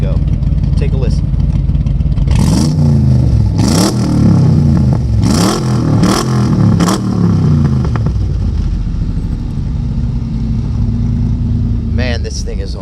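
A 1966 Shelby Cobra's powerful fuel-injected engine idles roughly, then is revved sharply several times in quick bursts before settling back to a loud, rumbling idle.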